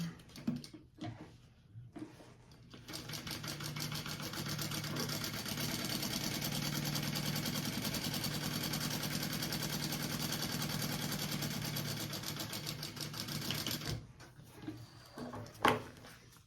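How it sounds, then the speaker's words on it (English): A sewing machine runs continuously for about eleven seconds as it bastes two layers of fabric together. The stitching is a fast, even whirr, with quiet handling sounds before and after. "And then I'm going to baste those 2 layers together."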